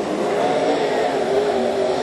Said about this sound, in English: Trying to give some burnouts on the back straightaway.